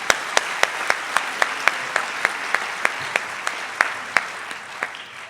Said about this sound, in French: On peut applaudir le film, absolument.